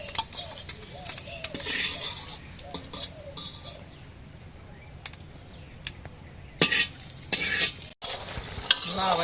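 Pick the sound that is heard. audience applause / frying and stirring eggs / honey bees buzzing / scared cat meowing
frying and stirring eggs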